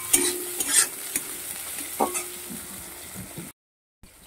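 Finely chopped onion sizzles and fries in a pan, a steady crackle broken by scraping stirs and a few clinks, then brief silence.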